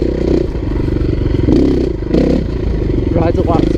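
A 2016 KTM 350 EXC-F dirt bike pulls in third gear, a close, steady engine drone with clattering and scraping over it and a rider talking throughout.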